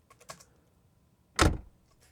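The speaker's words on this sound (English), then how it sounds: "Notice there's a car door close" A single solid thump of a car door shutting, preceded by a few faint clicks and rattles, otherwise quiet.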